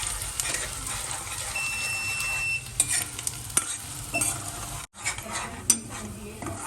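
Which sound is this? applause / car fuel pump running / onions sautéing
onions sautéing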